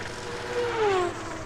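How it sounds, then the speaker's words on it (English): Racing car engine whine in a 1996 Formula 1 video game, rising in pitch as a car passes, a brief roaring sweep over a steady background drone. "Yeah, you get to hear the engines."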